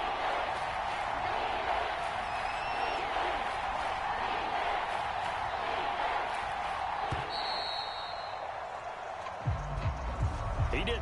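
A football stadium crowd in a game against the Browns cheers and roars steadily before a big third down, a broad continuous wash of noise with a commentator talking over it.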